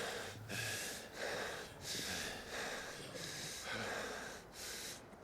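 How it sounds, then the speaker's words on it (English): Heavy, rhythmic breathing from a character in the video game Final Fantasy XVI, with about five drawn-out, snort-like breaths repeating at a steady pace, close and fairly loud, with no talk over them. "Heavy breathing."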